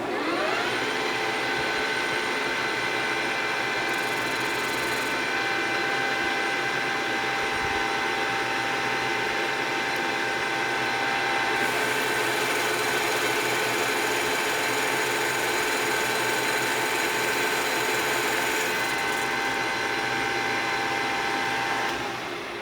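A mechanical metal lathe cuts metal at 1255 RPM in high gear, leaving a mirror finish. A steady, continuous whine with a constant tonal hum runs close and loud without pause for over twenty seconds, with no talking.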